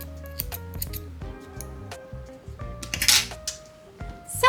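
Scissors snip through crochet yarn with a series of close, crisp clicks and cuts, ending in a brief rustle.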